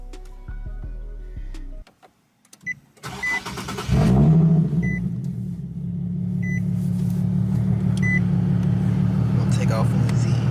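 A tuned, flame-tuned Nissan Skyline Z car engine starts with a cough, then settles into a loud, steady rumbling idle, with brief clicks and rattles over the top.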